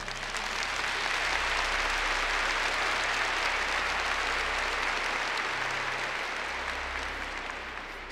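A church congregation at a Catholic Mass breaks into sustained applause, a dense wash of clapping from many hands that holds steady for several seconds before tapering slightly at the end.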